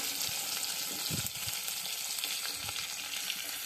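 Whole hilsa fish frying in oily fat in a wok, a dense continuous sizzle and spatter close by with a few soft thumps of the fish shifting, no talk.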